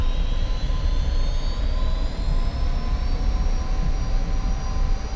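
Emirates jet airliners in a flight simulator video game give a steady, loud roar of jet engines with a slowly shifting high whine, constant throughout, with no talk.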